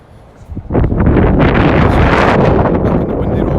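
Strong wind buffeting a microphone on an exposed rocky walk up to Edinburgh Castle, a loud low roaring rumble that swells quickly and then holds steady.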